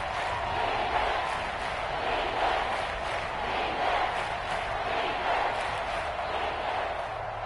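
Football stadium crowd in a video game, with Kansas City fans at home roaring as a continuous loud, surging wall of noise with swells and shouts throughout.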